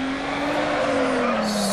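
Car drifting in the Need for Speed Underground racing game, a Subaru engine droning steadily with a sustained tire squeal through a turn, loud and close.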